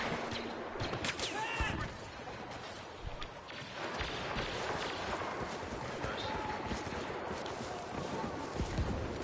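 Blaster gunfire in the Star Wars Battlefront video game, scattered quick shots and distant battle noise running steadily throughout at moderate level, with a player's voice talking over it.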